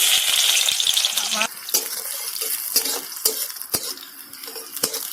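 Onions and cumin frying in hot oil sizzle and crackle, loud at first then dropping, with scattered clinks and stirring scrapes of a utensil against a pan.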